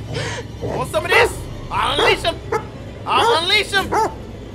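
In the video game The Devil in Me, a dog barks and yips in several sharp bursts with whimpering between them, close and loud, while people talk over it.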